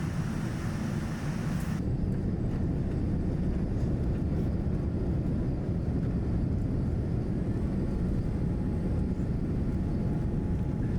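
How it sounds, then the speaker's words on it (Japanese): A passenger jet taking off at sunset from Kagoshima, its engines a steady, loud cabin roar that rises and holds for the whole stretch with no talk. "離陸していきます。"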